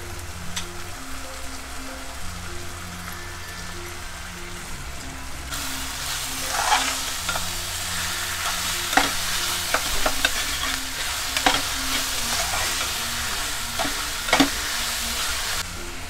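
Dhaba-style mushroom masala with oil separating sizzles steadily in a pan while it is stirred, with recurring scraping clatters of the spoon against the pan; a low hum runs underneath.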